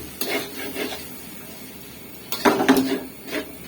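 Fried rice with meat and black pepper being stir-fried in a pan, with utensil scrapes and clinks in short bursts over a low sizzle, louder toward the end.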